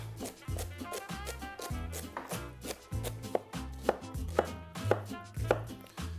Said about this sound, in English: We're just going to give a big chop.